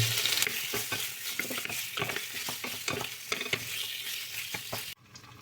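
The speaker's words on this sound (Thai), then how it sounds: "กระเทียมที่เราสับไว้ ลงไปเลยครับที่โครงหมู" Chopped garlic frying with pork bones in a hot pan gives a steady loud sizzle, with stirring scrapes and clinks scattered through it, until the sound cuts off abruptly near the end.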